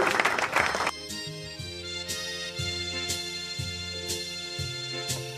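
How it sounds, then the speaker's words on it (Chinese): A short burst of audience applause welcomes a guest, filling the first second before giving way to tonal music with regular ticking beats. "掌声一下，欢迎！"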